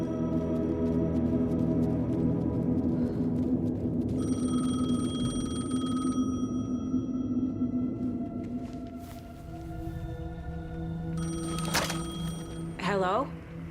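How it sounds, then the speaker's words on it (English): A payphone rings in the video game Alan Wake 2, its bell tones ringing out over a dense, droning game soundscape, with a voice speaking through much of it. "The payphone was ringing."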